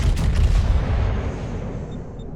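Battleship naval gunfire in the World of Warships video game, 16-inch against 15-inch guns: a deep, heavy boom that rolls out into a long low rumble and fades, loud and close.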